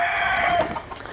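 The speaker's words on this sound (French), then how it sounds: "Regarde ce coq, il est majestueux." A French farm rooster on a poultry farm in Bois de la Roche gives a loud, close crowing call that trails off into a few short clucks, brief and alone without talk.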